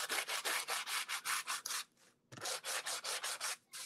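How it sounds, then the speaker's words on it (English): Wood sanded by hand with scrap sandpaper, a steady rhythm of quick back-and-forth rasping strokes, close but fairly quiet, with one brief pause partway through. "I'm just sanding, okay?"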